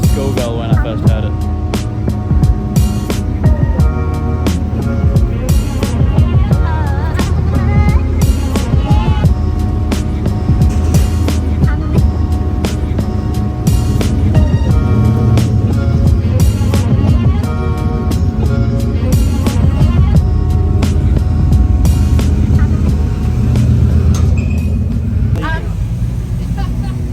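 A turbocharged Nissan Y62 Patrol runs during a street test with a loud, continuous engine roar and rumble that holds steady the whole time, while people talk over it.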